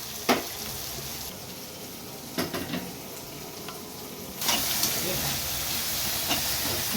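A mashed tomato pav bhaji mixture steams and sizzles in oil in a pan, giving a steady close hiss with a few soft pops. The hiss swells louder partway through.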